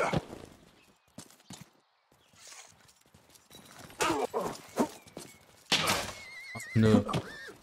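Horse hooves clip-clop in bursts with loud neighs and whinnies from a horse in the Western video game Rustler, mixed with thuds and game effects, fairly close.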